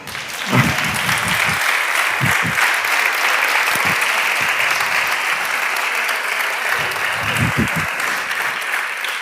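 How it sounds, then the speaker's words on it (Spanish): An audience at a literary event in Valladolid bursts into sustained applause, a dense steady roar of clapping that holds loud for the full stretch with a few brief low thumps and murmurs beneath it. "¿Aplausos, no?"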